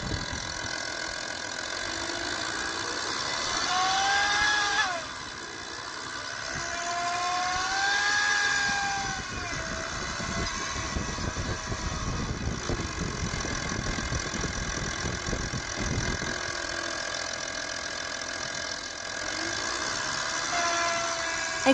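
A 2.5 TDI diesel engine with a faulty turbo whose turbine rubs the housing revs up and holds, a steady droning roar with a whining tone rising and falling over it, fairly close and continuous.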